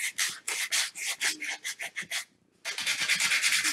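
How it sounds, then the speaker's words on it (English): Hand sanding of painted wooden edges on a wreath stand: close, loud rhythmic rasping strokes in quick succession, a short pause, then another rapid burst of scrubbing. "So we're just going to sand those edges."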